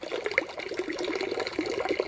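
Water bubbles and gurgles out of the drainage hole of a Böker knife, a soft, close, irregular trickling and popping that stays faint and steady.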